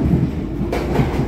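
A Chicago CTA metro train rolls along its rails with a continuous low rumble and rattle, and a brighter surge of track noise cuts in partway through. Nobody speaks.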